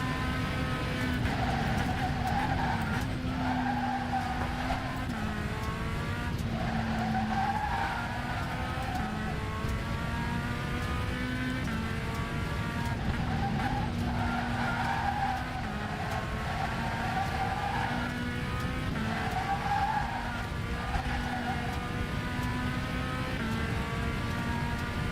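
Race car engine in a racing video game during a lap, a steady, sustained engine drone that rises and drops with gear changes, with tire squeal through the corners and no talk.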